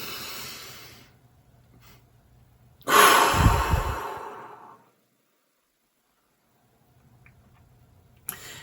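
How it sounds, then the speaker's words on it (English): A soft inhale fades out, then after a pause a long, loud breath is pushed out with a rushing exhale before silence and a faint final breath. "breathing in, getting to the top, taking a tiny bit more breath, and letting it all out"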